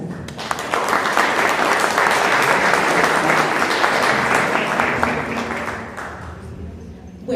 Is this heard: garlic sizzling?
no